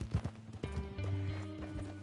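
Horse hooves clip-clopping in the video game Red Dead Redemption 2, a series of close, distinct hoof thuds at an uneven trotting rhythm over a low ambient hum.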